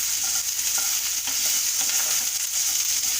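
Boiled lotus stem frying in a pan, a dense, steady sizzle with light scraping and stirring noises, close and loud, no voices.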